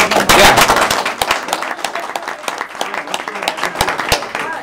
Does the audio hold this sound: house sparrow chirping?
no